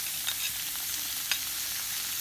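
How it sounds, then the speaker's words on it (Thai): Eel stir-frying with curry paste in a large pan, a steady close sizzle and hiss with a couple of faint stirring scrapes, no talk. "ผัดเครื่องแกงจนหอมแล้วยายใส่ปลาไหลครับ"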